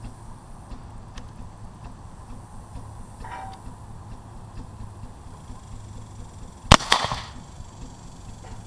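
A single sharp rifle shot from an Enfield-style cartridge cracks out about two-thirds of the way through, with a brief echo tail, after a stretch of quiet outdoor ambience with no talking.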